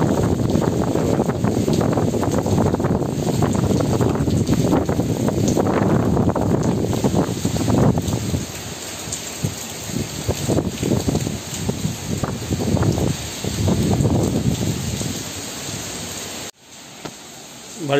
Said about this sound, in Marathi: बाहेर तर परिस्थिती कठीण आहे एकदम. तो तिकडून पाणी काय येतं मम्मी सर्व त्या साईडून पाऊस येतो ना तो जोरात